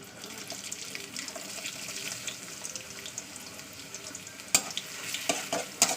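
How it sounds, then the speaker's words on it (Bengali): Sliced onion sizzles in hot mustard oil in a pan, a steady frying hiss with occasional stirring clinks and sharper crackles toward the end, close and moderately quiet. "তেলটা আমার গরম হয়ে গেছে তো চলুন পেঁয়াজ দিয়ে দিচ্ছি"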